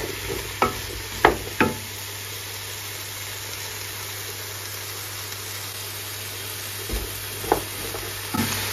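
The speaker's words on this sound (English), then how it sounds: "I'm just making some celery soup, really easy" Celery soup made with potatoes, garlic, stock and milk is stirred in a pan: a soft simmering hiss runs beneath a few sharp scrapes of a spoon against the pan, clustered at the start and again near the end.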